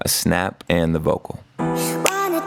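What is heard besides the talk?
No everyday noise stands out behind the speech.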